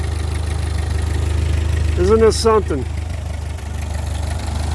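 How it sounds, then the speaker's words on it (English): The engine of a World War II era Ford 2N tractor idles steadily, a low rhythmic chugging that continues throughout at close range, with someone speaking briefly over it. "So this is a 2N. This is a World War II era tractor."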